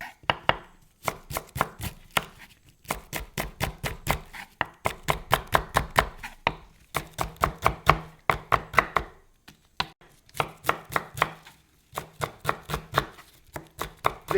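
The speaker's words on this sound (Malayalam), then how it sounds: "ഇതേപോലെ പൊടിയായിട്ട് അരിഞ്ഞിട്ട് വെളുത്തുള്ളി ചെറിയ കഷ്ണങ്ങളാക്കിയിട്ട്" Garlic being finely chopped with a knife on a board for a Kerala tamarind curry side dish, a steady run of sharp, close knife taps in quick bursts with brief pauses, no talking.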